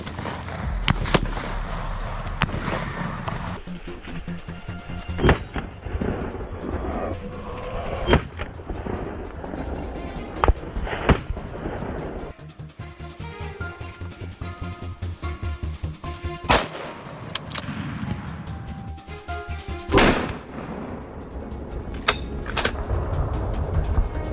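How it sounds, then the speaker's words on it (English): Repeated sharp rifle shots crack out in irregular bursts on a farm field during a wild boar hunt, loud and close, with short echoing tails between volleys and no talking. "A burst of gunfire rang out, cutting off its escape."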